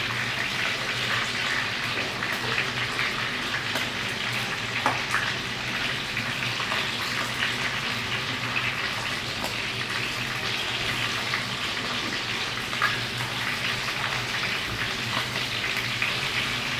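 Duck sears in a hot pan, producing a loud, steady, close sizzle and crackle of frying fat that continues unbroken with small pops throughout, no voices.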